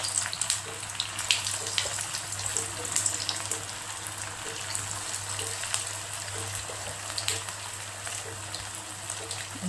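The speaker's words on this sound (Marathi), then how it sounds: "आता हे तेल आपलं तापलेलं आहे, आता तळून घेऊया." Bread balls made with boiled potato fry in hot oil, producing a continuous bright sizzle with fine crackling pops and a low steady hum beneath, with little talk.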